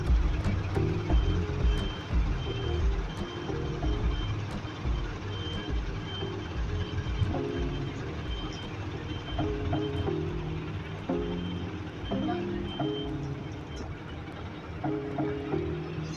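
A highway bus reverses out of a passenger terminal, its reversing beeps repeating steadily over a low engine rumble and busy terminal background, with no speech.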